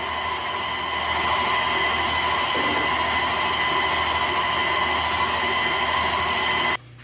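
A stand mixer running in second gear beats cake batter with eggs, giving a steady, loud mechanical whir with a humming tonal drone that runs unbroken for several seconds before abruptly switching off near the end.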